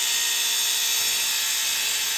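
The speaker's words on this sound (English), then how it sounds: "We're gonna drill these out." A drill bores out holes in the frame of a 1971 Dodge D100 truck, a steady high-pitched whine that holds evenly throughout, loud and close, with no voices.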